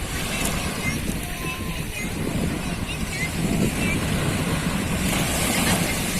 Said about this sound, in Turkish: Dalga seni neredeyse düşürüyordu Deniz